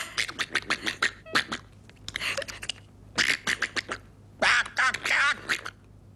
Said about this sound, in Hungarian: Szeretnéd hallani, hogy hápog a kacsa?